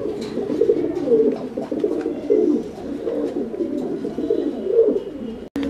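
Archangel pigeons coo steadily in low, throaty rolling calls, several birds overlapping close by at a pigeon sale, continuous throughout with no speech.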